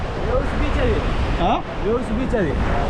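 Sea waves wash onto the shore at a Pondicherry beach, a close continuous roar of surf with people talking over it.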